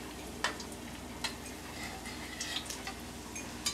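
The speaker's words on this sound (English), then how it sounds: "The oil is kind of boiling around" Tibetan sweet bread sizzles in boiling oil, a soft, continuous bubbling crackle with occasional sharper pops and spits, close and fairly quiet.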